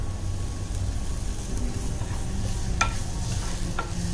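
Steady sizzling of chopped onion frying in an oil tempering in a pan, with a few sharp scraping clinks of a spoon stirring near the end.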